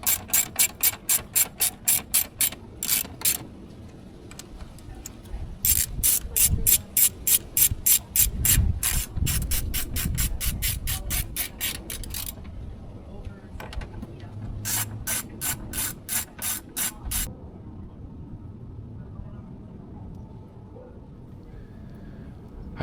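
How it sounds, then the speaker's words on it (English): Six bolts on a plastic cover over a Volvo Penta V8/V6 steering shaft being fastened with a ratchet: rapid, crisp clicking runs in repeated bursts with short pauses between them, close and clear with no talk. "I install the plastic cover and fasten it with 6 bolts."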